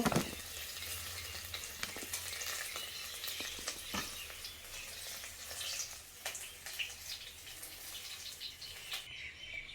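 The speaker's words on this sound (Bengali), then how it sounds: "দেখো পেঁপে আর সজনাটা লাল করে ভাজা হয়ে গেছে" Papaya and drumstick pieces frying in oil give a steady, close sizzle throughout, with light stirring clatter and faint bird calls in the background.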